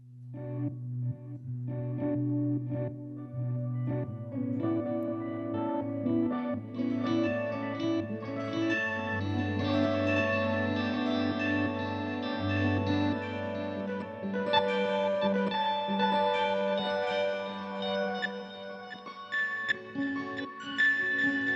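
Sustained guitar tones through a delay pedal with generation loss before it swell and smear into layered, echoing repeats with a gritty, slightly degraded texture, no reverb, building steadily with no talking.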